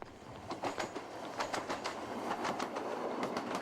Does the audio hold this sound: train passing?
yes